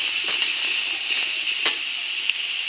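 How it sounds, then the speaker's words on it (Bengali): Grated carrot frying in a hot kadai gives a steady, close sizzling hiss that runs unbroken throughout, with a few faint clicks and scrapes rising briefly above it and no voices. "গ্রেট করে গাজরটা রেখেছি, ওটা এখন ভাজা করে নেব"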